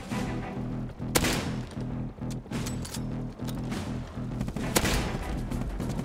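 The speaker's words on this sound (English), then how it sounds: "Did not see that rocket run coming." Rocket run in the survival game Rust: a steady crackle of gunfire broken by several sharp, loud explosive blasts and booms spread across the stretch.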